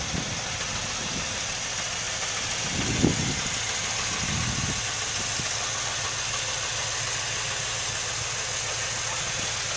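A 1997 Camaro SS with the LT1 V8 engine idles in a steady, loud rumble, with a couple of brief low surges early on and a constant airy hiss throughout.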